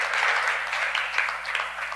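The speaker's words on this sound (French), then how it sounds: "Applaudissez le Seigneur." A church congregation claps and applauds together, a dense, lively patter of many hands that goes on steadily and close by for the whole moment.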